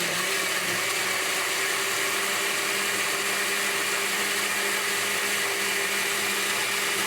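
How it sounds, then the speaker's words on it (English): Blender whirring loudly and steadily as it purees tomato beet soup, a constant motor roar with no pauses or talking. "This is just going to blend until smooth."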